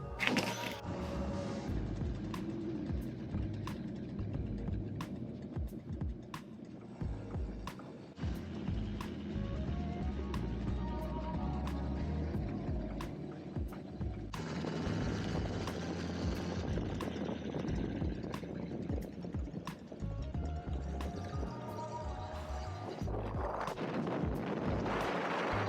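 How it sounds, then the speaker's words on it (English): A Motobecane Moby 7 moped engine runs continuously with a buzzing, uneven two-stroke drone and regular ticking clicks, close and moderately loud, the pitch shifting slightly partway through. "The bike does run."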